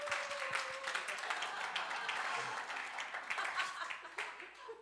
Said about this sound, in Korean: 우리 고생한 목사님께 박수 한번 했으면 좋겠습니다.